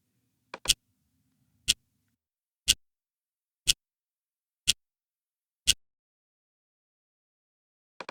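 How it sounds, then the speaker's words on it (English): A food-timer sound from the Vitamin-R Mac app ticks sharply six times at one-second intervals, then stops briefly before one more tick, crisp and isolated against silence. "the continuous ticking of the food timer is a constant reminder to stay focused, and you can imitate this effect with this setting"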